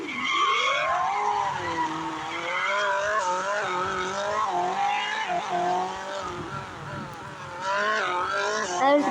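A car drifts with its tires skidding, a loud, sustained squeal that wavers and bends in pitch as the slide continues, with engine noise underneath.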